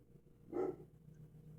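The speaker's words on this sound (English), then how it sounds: "sorry if y'all hear that my dogs are barking in the background" Dogs barking in the background: one short muffled bark stands out near the middle, faint and distant, over a low steady hum with no talking.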